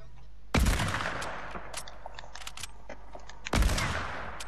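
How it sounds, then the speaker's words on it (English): Two sharp, loud hunting rifle shots in the Fortnite video game, about three seconds apart, each with a crisp crack and a ringing tail, heard close up over steady game background noise. "Wait, Joey, let me just finish him with my hunting rifle."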